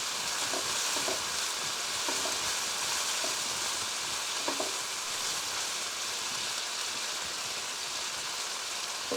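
Chicken sizzles steadily in a hot pan while being cooked for Hakka noodles, a continuous close crackling hiss with no one speaking.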